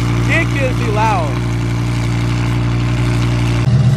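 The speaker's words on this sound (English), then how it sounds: "this is idling at a stoplight. It's so loud." A Nissan GT-R sports car idles loudly at a stoplight, a steady deep rumble with strong low harmonics, close by, with a voice talking over it briefly at the start and a sharp rise near the end.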